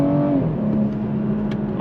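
A BMW 340i Touring with the B58 engine and xDrive accelerates with a steady, loud engine drone heard from inside the car, its pitch rising briefly and then holding level.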